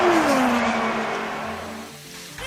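IndyCar race cars roar past at the finish of a race at Auto Club Speedway in a racing video game, engine pitch sliding downward as they pass, loud and close, fading slightly.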